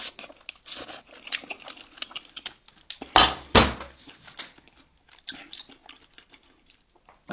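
Grilled lamb meat being chewed close up, irregular soft chewing and biting noises with a couple of sharper crunchy bursts, quiet and intermittent.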